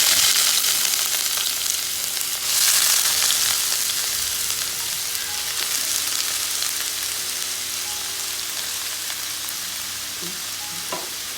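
Onion sautéing in hot coconut oil in a pan, a loud continuous close sizzle that fades slightly over time, with faint stirring clinks and no talking.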